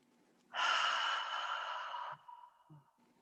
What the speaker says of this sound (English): Let's just take a deep breath, everybody.